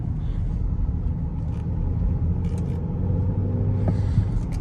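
A 2013 BMW X5 Twin Turbo on the road, heard from inside the cabin as a steady low engine and road rumble that hums evenly throughout, with a few faint clicks and light mechanical noises above it.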